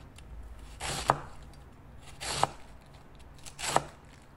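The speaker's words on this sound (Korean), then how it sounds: "샐러드나 각종 채를 사용하는 요리를 할 때는 화면처럼 썰어 주시면 간편하게 사용하실 수 있을" A knife cuts through cabbage on a cutting board in three slow, evenly spaced strokes. Each stroke ends in a crisp tap against the board, quiet and close, with no voices.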